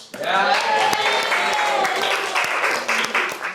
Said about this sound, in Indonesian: boleh nggak tepuk tangan dulu untuk tim Nyong?